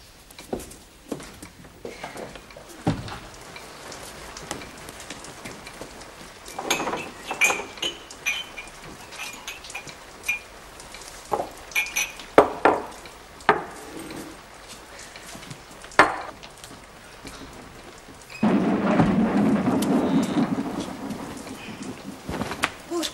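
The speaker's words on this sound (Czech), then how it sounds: "Ty Saničko ani hromničku nezapálila, co kdyby uhodila" A thunderstorm rolls through with scattered cracks and rumbles of thunder at irregular intervals, then heavy rain surges in loudly near the end, filling the space with a dense roar.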